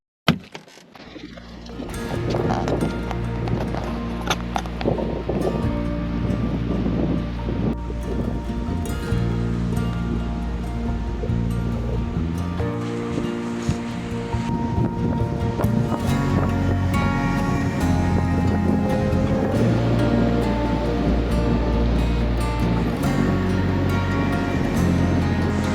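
Ocean waves wash onto a beach in coastal Georgia, a loud, continuous roar of surf and wind buffeting close by, with rustling and tonal background sounds layered throughout.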